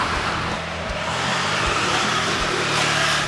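An ECX Revenge Type e 1/8-scale 4WD electric RC buggy runs on a dirt track, with a steady loud whine and rushing noise from its motor and tires throughout, brightening toward the end.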